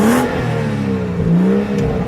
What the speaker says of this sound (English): Let's do a little rev time.